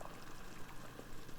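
A pot of water boils for cooking collard greens, a quiet, steady bubbling hiss with small pops throughout.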